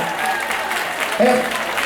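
Audience applause fills the short stretch at a charity concert in Greece with Ukrainian singers, steady clapping from a crowd with a voice briefly rising over it.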